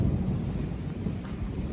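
Rain falls steadily as low thunder rumbles through it, a dense, deep roll under the hiss of rainfall, with no voices.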